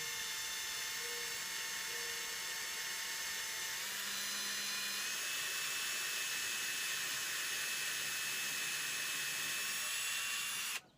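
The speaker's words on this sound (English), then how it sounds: "drill this a little bit more." A small high-pitched power drill whines steadily while drilling driftwood, its motor pitch shifting slightly as it bites, before cutting off abruptly at the end.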